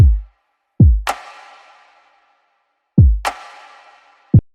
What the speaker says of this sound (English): So the kick and the clap sound something like this together.